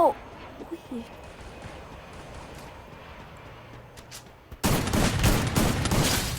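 Gunfire in the Free Fire mobile shooter game, faint scattered pops at first and then a loud, dense burst of rapid shots near the end, with a voice speaking over it.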